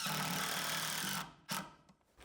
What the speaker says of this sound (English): Also with the fiberglass, I'm going to countersink some of these holes.